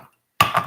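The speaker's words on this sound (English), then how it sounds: "I'm gonna go ahead and crack this can open" A can of salmon cracked open in a home kitchen while making salmon croquettes, heard as a sudden sharp metallic snap after silence, followed by a brief close rustling clatter.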